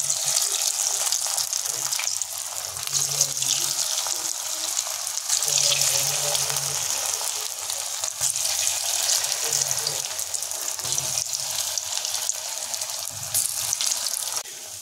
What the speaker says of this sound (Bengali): এখন আমরা ম্যারিনেট করা বড়ার অংশগুলো একটা একে গরম তেলের উপরে যোগ করে দিচ্ছি।